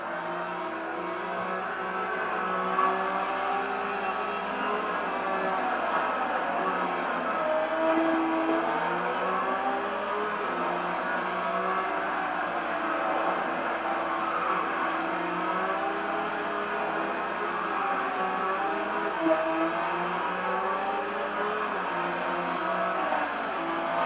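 A car engine from a racing video game plays through a TV speaker, a steady droning whine with shifting pitch as the car accelerates and overtakes, continuous and moderately loud throughout, with no talking.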